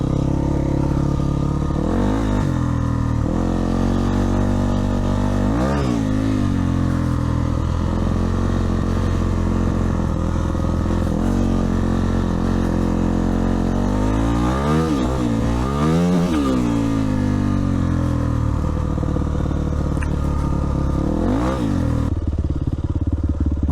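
A Yamaha WR400 motorcycle with an instant, play-free throttle: the engine runs loud and close throughout, with several sharp revs rising and falling over a constant rumble, including a cluster of quick blips in the middle.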